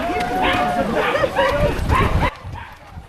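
A dog barks several times in a row, close and loud, in an outdoor setting at the start of a parkrun, then the barking stops abruptly into quieter background.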